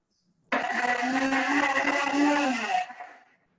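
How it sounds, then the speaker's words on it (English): A kitchen blender whirs through fresh basil, starting abruptly and running at full speed for just over two seconds before spinning down, loud and close with no voices. "So I'm gonna blend it until I'm gonna watch it in there just until all the basil gets blended up really well"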